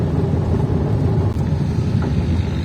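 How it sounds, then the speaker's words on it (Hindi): Busy road traffic in Karachi at lunchtime, a steady dense rumble of engines passing close by with no clear breaks, loud and continuous throughout. "अब इस टाइम 2 बज रहे हैं तो यहाँ पर सब जगह ट्रैफिक ही ट्रैफिक है"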